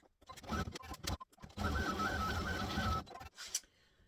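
An embroidery machine stitching: a steady mechanical whir runs for about a second and a half at fairly close range, preceded by brief starts and clicks and followed by a short burst before it stops.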